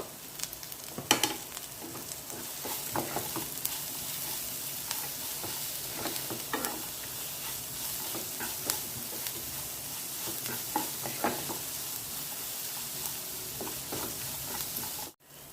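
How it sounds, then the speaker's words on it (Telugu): Onions frying in a pan with half a tablespoon of salt added, a steady close sizzle with occasional scraping stirs, continuing throughout before cutting off at the end. "ఆనియన్స్ ఫాస్ట్గా వేగడం కోసం ఒక హాఫ్ టేబుల్ స్పూన్ సాల్ట్ వేస్తున్నానండి"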